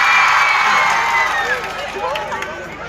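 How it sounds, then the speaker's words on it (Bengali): A big crowd at the Gumkiya Kali fair shouts and cheers loudly with scattered claps, the roar strongest at first and then easing off while voices carry on through it. "একটা চিৎকার আর হাততালি চাই গুমকিয়া কালী মেলার জন্য সবাই।"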